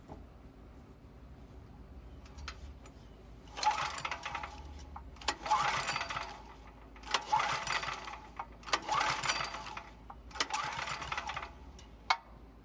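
Small generator engine turned over by its pull rope during a compression test, five rhythmic bursts of rapid chugging cranking, each lasting about a second, separated by quiet gaps, moderately close.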